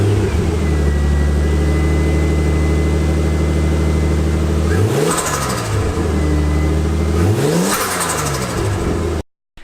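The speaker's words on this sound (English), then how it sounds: "so that was legit all turbo flutter" A Nissan 240SX S14 with an RB25 engine revs repeatedly in a garage, steady idle climbing into two sharp rev peaks with turbo flutter as each rev drops, loud and close with no talk.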